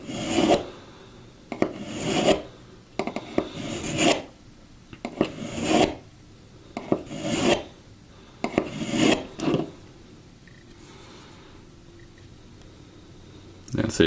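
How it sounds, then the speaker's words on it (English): Knife blade drawn across the ceramic side of a sharpener in repeated rasping strokes, about a dozen scraping passes in an uneven rhythm, close and fairly loud, then quieter toward the end. "So then we go over to our ceramic side so we can finish our edge"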